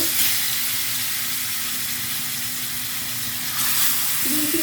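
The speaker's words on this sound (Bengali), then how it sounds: "তো এখন মাছগুলোকে আমি ভেজে নেব" Rupchanda fish (pomfret) frying in hot oil in a karahi for a bhuna, a steady dense sizzle that runs throughout, close and fairly loud, with a brief clatter near the end and no talk.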